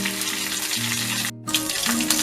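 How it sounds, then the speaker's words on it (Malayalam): Mustard seeds and curry leaves sizzle in hot coconut oil while tempering a chutney, a loud, steady frying hiss that runs almost throughout, with one brief dip near the middle. "വെളിച്ചെണ്ണ ചൂടാകുമ്പോൾ കടുക് ഇടുക കേട്ടോ"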